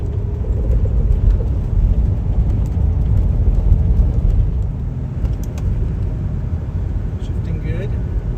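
A GMC motorhome rumbles steadily along on a drive, low road and engine noise filling the cabin with a constant, close drone.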